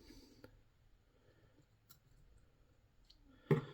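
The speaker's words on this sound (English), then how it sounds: "It's always quite hard to cut the eggs while also trying to look at the camera as well." Faint, sparse clicks and snips come from scissors cutting into ball python eggs, with one sharper snip near the end. The background is quiet and no one speaks.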